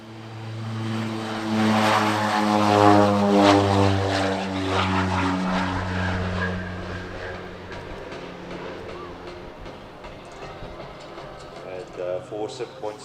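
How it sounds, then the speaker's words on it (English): OV-10 Bronco twin-propeller aircraft flying at an airshow, a strong pulsing drone that rises and then slowly fades, with a commentator talking over it. "here is the aircraft that did perform that role in Vietnam, the OV-10 Bronco."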